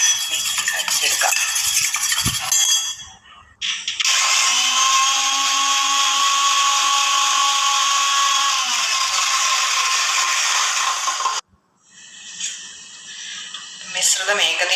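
An electric blender whirs loudly and steadily for several seconds, blending aloe vera juice with lemon and honey, with a shorter burst before it and rattling after it stops, and a voice talking around it.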